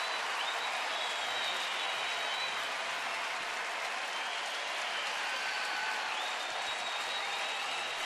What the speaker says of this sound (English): And now this crowd is in full throat.